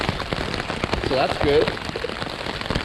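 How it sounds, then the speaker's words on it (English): Hail pelts a plastic shelter in a steady dense patter during a spring overnight camping trip, with a person speaking briefly over the noise. "that's definitely hail"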